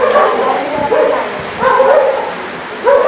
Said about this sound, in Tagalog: Malakas pa yung tawag ng aso.